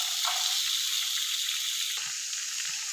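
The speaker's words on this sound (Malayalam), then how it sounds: "അതിലേക്ക് ക്യാരറ്റ് ഇട്ട് കൊടുക്കാം." Carrots sizzling in butter and garlic in a pan on low heat, a close, even hiss that runs continuously, with a faint bump partway through and no voices.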